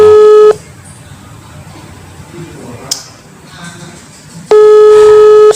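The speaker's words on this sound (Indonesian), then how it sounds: "Still ringing, still ringing." Repeated ringback tone of an outgoing phone call, loud steady tone bursts at the start and end with a quiet gap between them, no talking.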